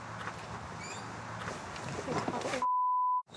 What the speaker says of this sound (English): Oh, it's got an alarm as well.